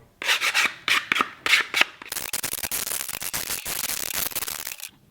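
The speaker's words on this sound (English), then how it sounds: "what you want to do is sand all of these pieces to get all the rough bits off" Small wooden pieces are sanded by hand, starting with several separate rasping strokes. These turn into a fast, steady scrubbing that runs close up for a few seconds and then stops.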